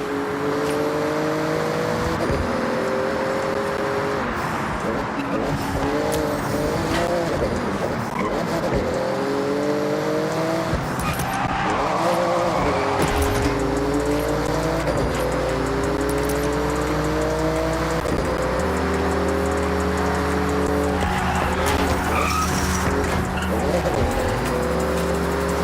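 A Porsche races in the Forza Horizon game through a snowy zone, its engine droning loudly and shifting pitch through repeated gear changes, with tire squeal over continuous road noise.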